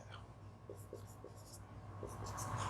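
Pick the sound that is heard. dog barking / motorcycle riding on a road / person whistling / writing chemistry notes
writing chemistry notes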